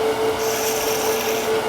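Wood turning gouge cutting clearance into a spinning workpiece on a lathe, a steady close scraping hiss with a constant whine from the machine running underneath.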